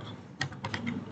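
A keyboard shortcut, Ctrl F, typed on a computer keyboard, a handful of quick soft key clicks close by in a quiet room.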